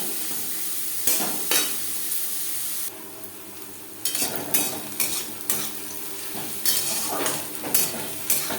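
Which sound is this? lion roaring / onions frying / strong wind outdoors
onions frying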